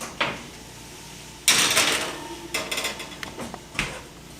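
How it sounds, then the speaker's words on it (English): A veggie pizza goes into a kitchen oven: a sharp metallic clunk of the oven door or rack, then rattling, sliding and knocking of metal pans and a final thud, close and without speech. "now it's time to put it in the oven"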